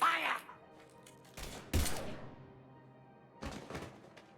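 Gunfire in Mass Effect Legendary Edition: separate sharp shots and thuds arrive in short bursts with quiet gaps between them, close and punchy, and a voice is briefly heard at the start.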